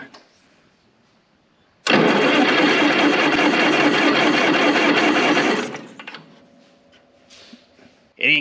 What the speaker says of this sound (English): turn my magneto on, give it a little choke.